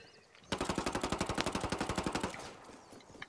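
Rapid automatic gunfire from the video game Ghost Recon Wildlands: a sustained burst of about twenty close, loud, evenly spaced shots, then a tail of fainter scattered reports and one final sharp crack.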